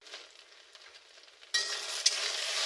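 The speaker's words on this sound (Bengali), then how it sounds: "তা প্রথমে আমি ভেন্ডিটাকে তেলের মধ্যে ভালো করে ভেজে নেব।" Okra frying in oil with a little salt starts with a sudden loud sizzle that continues steadily and crackles close by, after a quieter stretch of faint hiss.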